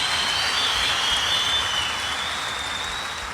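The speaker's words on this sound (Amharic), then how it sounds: "አጨብጭቡላት።" An audience claps together in sustained applause at a youth event, a dense even wash of hand claps that holds steady for a few seconds and tapers slightly at the end, with no voices.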